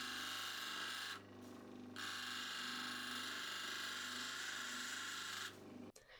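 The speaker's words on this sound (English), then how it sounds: "Starting on the 400 grit wheel, I'm just going to take my time and work through that sand spot" An opal is ground on a 400 grit wheel to work out a sand spot and shape its dome, producing a loud, continuous whirring scrape that briefly lightens twice as the stone is lifted.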